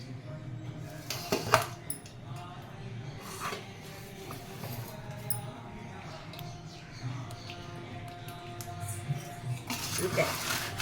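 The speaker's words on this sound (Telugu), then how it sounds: "గ్యాస్ ఆపి మిక్సర్ అంతా కలిపేసుకున్నాను." Chiwda mixture is stirred in a pan with the gas off, giving faint scraping and occasional clinks of a spoon on metal, with a few brief louder knocks.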